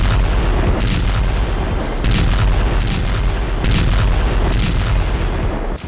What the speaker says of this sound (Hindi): नीप्रो पर रूस के 65 MLRS हमले।